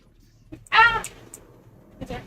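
A house cat lets out a single clear meow, close and fairly loud, with a couple of small squeaks and soft household sounds around it and a brief voice-like noise near the end.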